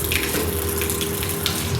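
Cold tap water runs in a steady, continuous stream for ablution at a mosque, a close, even rush with no voices.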